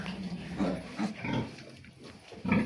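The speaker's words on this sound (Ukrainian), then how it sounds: "поросята дуже довгі, головаті, великі поросята." Soft grunts and low snuffling squeals from piglets on a farm, several short calls scattered close by at a quiet level.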